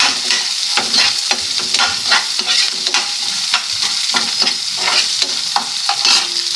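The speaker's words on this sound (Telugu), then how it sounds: "ఉల్లిపాయలు పెద్ద ఉల్లిపాయ తీసుకున్నానండి సన్నగిలి టాప్ చేసి వేసుకోవాలి రెండు కూడా" Two large onions, thinly sliced, fry loudly in a pan for semiya upma, a dense, continuous sizzle broken by repeated scraping strokes of a spoon as they are stirred.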